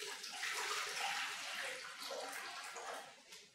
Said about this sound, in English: We're going to add enough water